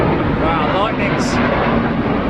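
English Electric Lightning jets roar past during the RAF100 flypast over London, a broad, rumbling rush of engine noise mixed with crowd voices and excited talk nearby.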